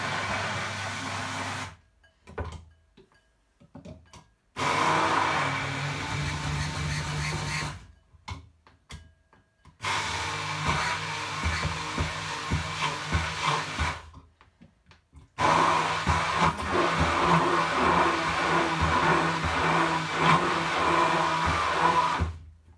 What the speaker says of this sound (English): I need to blend all the wet ingredients together.